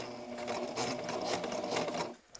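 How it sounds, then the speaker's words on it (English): A sewing machine stitches a quarter-inch seam on underwear fabric, whirring in a fast, even run close by for about two seconds before stopping, followed by a couple of small clicks. "Now we're going to sew our 1/4 inch seam."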